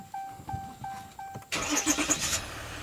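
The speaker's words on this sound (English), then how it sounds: "Now I'm going to start the vehicle." A 2018 Dodge Ram with a DPF fault turns over: a few short chimes, then the engine catches at once and settles into a close, steady idle.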